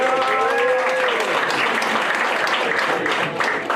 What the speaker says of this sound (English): please give a warm applause for our defensive coordinator